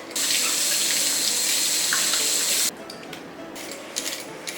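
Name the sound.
running tap water washing vegetables and pork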